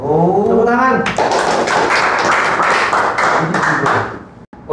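An audience claps at the close of a podcast talk, a burst of many hands starting after a brief spoken line and continuing fairly loud before fading out near the end.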